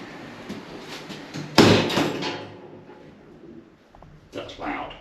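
London Overground train doors on the Suffragette line thud shut with a loud bang that echoes and fades, followed by softer rumbling and clatter in a reverberant station.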